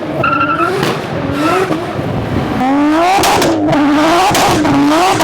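A 600-horsepower Nissan Skyline driven hard, its engine revving loudly with rising and falling pitch while tires squeal and skid in long sustained screeches, close and continuous.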